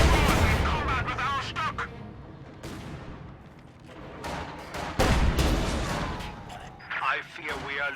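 MG-42 machine gun and mortar fire in a World War II strategy video game, with rattling bursts and dull booms mixed into busy battle noise beneath continuous commentary.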